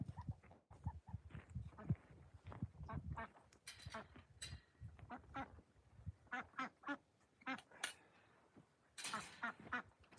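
Ducks quack repeatedly on a farm during morning chores, a busy cluster of loud nasal calls close by, with a person's voice briefly mixed in.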